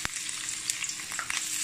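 Dried shrimp stir-frying in hot oil over low heat makes a dense, continuous crackling sizzle, close and fairly loud, with a few brighter pops.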